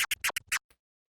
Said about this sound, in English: So for example, the chirp scratch,